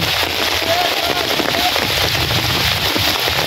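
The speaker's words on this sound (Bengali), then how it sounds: "রাত্রে থেকে বৃষ্টি নামছে, বৃষ্টি তো কমতেই আছে না" Heavy rain, falling since the night during severe flooding, pours down in a dense, constant crackling hiss, loud and close, with a brief faint voice in the background.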